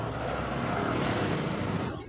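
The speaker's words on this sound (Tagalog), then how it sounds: "Tricycle, tricycle." A motorized tricycle passing along a narrow street, a close, steady engine rumble and road noise swelling and fading over about two seconds, with no voices.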